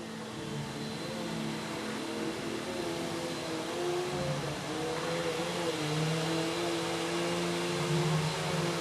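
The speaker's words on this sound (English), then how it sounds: "Sorry about the vacuum." A vacuum cleaner runs in a room, giving a steady, fairly loud whirring drone with wavering tonal hum throughout and no speech.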